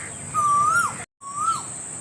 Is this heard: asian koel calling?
yes